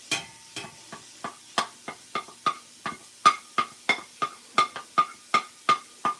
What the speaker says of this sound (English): Got a little sizzle going there.